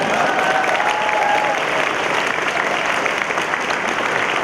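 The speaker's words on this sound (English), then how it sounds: "will you please all clap for them?" Sustained applause from a nursing commencement audience, dense steady clapping that fills the hall without a break for several seconds.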